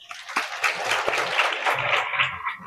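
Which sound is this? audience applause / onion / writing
audience applause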